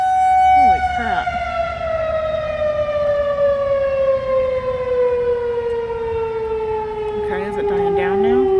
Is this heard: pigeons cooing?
no